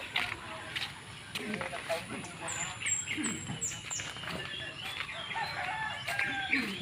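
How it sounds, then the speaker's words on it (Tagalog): Chickens cluck on a farm and a rooster crows faintly in the distance, mixed with outdoor background noise and a person talking nearby. "Tapos may mga manok kami dyan"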